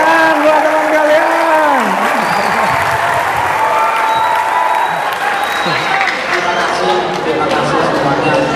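A school audience at an SMK entrepreneurship talk claps in loud, sustained applause for about eight seconds, while a voice speaks over the crowd.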